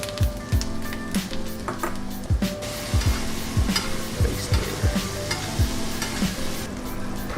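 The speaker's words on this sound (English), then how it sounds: "I just literally want to add the steak back in and just sort of rewarm it up and just give it a little baste" A sous vide ribeye steak is rewarmed and basted in butter and aromatics in a hot pan. Loud, continuous frying sizzle, with rhythmic spooning splashes and clinks of the spoon against the pan, close up and with no talking.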